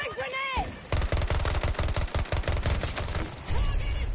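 A rapid, sustained burst of automatic gunfire in a first-person shooter video game, loud and close, rattling steadily for about three seconds between brief quieter moments.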